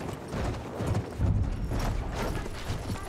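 Horse hooves clip-clop in steady rhythm in the video game Battlefield V, a close, fairly loud trot with some low rumble underneath and no talking.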